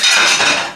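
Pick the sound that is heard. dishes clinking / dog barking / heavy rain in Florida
dishes clinking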